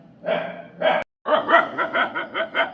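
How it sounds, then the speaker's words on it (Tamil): A dog barks repeatedly nearby, a couple of separate barks followed by a quick run of rhythmic barking, loud and clear with no talking. "என்னடா நாய் குலைக்குதேன்னு வீட்டை விட்டு ஏந்து வந்து பார்த்தேன்"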